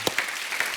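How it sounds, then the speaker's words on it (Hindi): Brief burst of studio audience applause on a comedy talk show, a hiss of many hands with a few distinct sharp claps standing out, short and fairly loud. "जोरदार तालियां होनी चाहिए"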